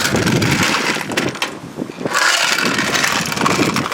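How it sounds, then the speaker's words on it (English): A lawn tractor powered by a 1985 3 HP Briggs engine runs loud and close, a steady rough mechanical drone that dips briefly in the middle before resuming at full strength. "Alright, I'm going to mow the lawn."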